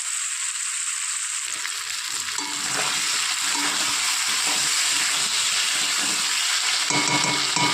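Pumpkin leaves frying in a hot pan, a loud steady sizzle with stirring and crackle that intensifies midway as the greens settle into the oil.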